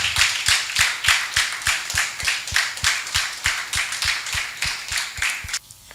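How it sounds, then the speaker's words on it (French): A storytelling event audience claps loudly in steady unison, the beats coming quickly and evenly before fading at the end. "Aidez-moi à recevoir avec des ovations bien méritées Dr Ralph Mama."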